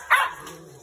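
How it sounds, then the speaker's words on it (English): A Cane Corso gives a single short, sharp bark close by, then falls quiet. "that's a big ass dog y'all got out here."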